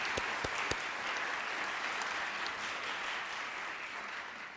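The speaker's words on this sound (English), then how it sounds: "a round of applause for you." Audience applause at a California poetry recitation event, a steady dense wash of clapping held throughout, with a few sharper claps near the start.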